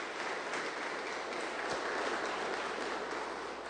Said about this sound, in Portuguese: Dê uma salva de palmas para o Senhor Jesus, gente.